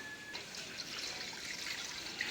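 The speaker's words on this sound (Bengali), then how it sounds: "আমি কড়াইটা ধুয়ে নিয়ে আসি" Water runs and splashes while a wok (kadai) is rinsed, a steady close trickle with faint clinks and no talk.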